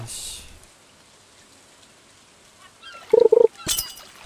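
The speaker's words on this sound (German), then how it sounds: "Es regnet." Steady soft rain in Stardew Valley patters throughout, a quiet even hiss, broken near the end by a few short bright chiming tones and a splash.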